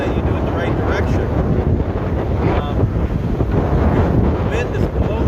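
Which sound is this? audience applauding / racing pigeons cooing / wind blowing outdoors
wind blowing outdoors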